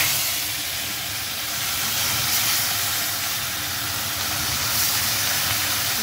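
Fish rubbed with salt and turmeric frying in hot oil, a steady broad hiss and sizzle running continuously and fairly loud throughout, with no talk.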